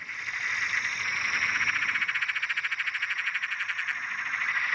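A frog calls from a tree at night beside water where anglers fish for Murray cod, its rapid rhythmic trilling pulses running steadily and fairly close throughout, with no talking.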